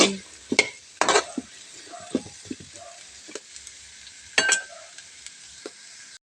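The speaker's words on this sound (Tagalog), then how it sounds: "Halo-halo lang guys." Pinakbet vegetables stirred in a frying pan over a light sizzle, with several scraping strokes and clinks of a utensil against the pan scattered irregularly.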